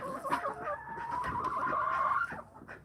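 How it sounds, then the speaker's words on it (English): A farm chicken makes an odd, drawn-out squeaky call, a thin sustained squeal lasting about two seconds, close and moderately loud with faint clucking around it. "This chicken makes some weird noise."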